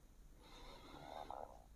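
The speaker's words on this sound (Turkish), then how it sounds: "Derin bir nefes alıyoruz." A slow, deep inhale through the nose during a meditation, soft and airy, rising gradually over a second or so in a quiet room.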